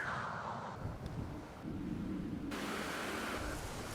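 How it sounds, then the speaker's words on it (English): Rain added as an ambient sound effect in a spooky scene built in Dreams on PS4, a steady broadband hiss with low rumbling and wind-like noise that shifts in texture partway through. "So there's some rain."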